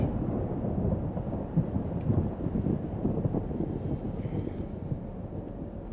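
A storm with rolling thunder rumbles in the video game Life is Strange Double Exposure: a steady, fairly quiet low roar with wind and rain-like wash and no distinct claps.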